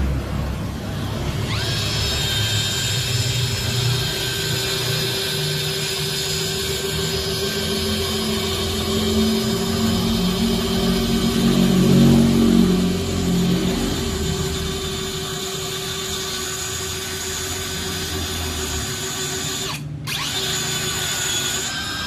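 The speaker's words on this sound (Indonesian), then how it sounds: "Saya di speed high mode drilling. Bahan kayu Meranti." A Mollar CD12300 12V cordless drill set to high speed bores a 9 mm hole into meranti wood, a steady loud motor whine that strains and deepens mid-way, then stops with a click before spinning up again.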